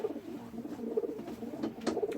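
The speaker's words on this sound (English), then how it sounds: "the next pigeon is another Satinette" A Satinette pigeon coos softly and close in a loft, a few low throaty rolling calls in quick succession with faint background rustle.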